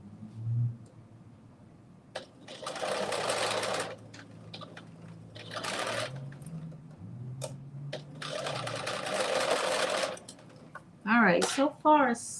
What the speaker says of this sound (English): so far it seems like it's sewing okay